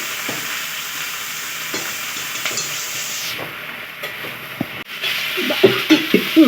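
Spoon stirring potatoes, tomatoes and ridge gourd in a hot iron kadai for a home-style curry, with steady sizzling and repeated scraping strokes close up, no talk.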